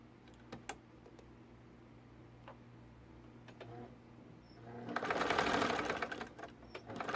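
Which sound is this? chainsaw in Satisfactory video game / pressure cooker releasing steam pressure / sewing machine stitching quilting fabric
sewing machine stitching quilting fabric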